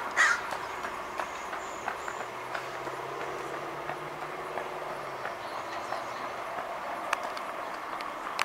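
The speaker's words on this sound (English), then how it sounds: "There's also some crows in the area that are displeased with its presence." Crows calling in the open around a red-tailed hawk eating its prey, harsh caws scattered over several seconds against steady distant background rumble, fairly faint and no talk.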